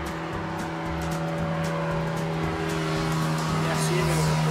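A motor vehicle engine drones steadily as it passes, a sustained loud hum with gradually rising intensity over several seconds, no speech over it.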